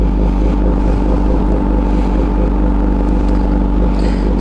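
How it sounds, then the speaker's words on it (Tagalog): A Kawasaki ZH2 with an SC Project exhaust idles while warming up, giving a loud, steady low engine rumble that stays even throughout with no revving and no voices. "Painit muna tayo ng bike."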